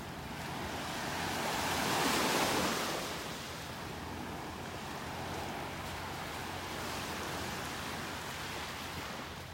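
Ocean waves wash onto a beach in North Naples, Florida, a continuous roar of surf that swells early and then holds steady, with wind noise on the microphone and no voices.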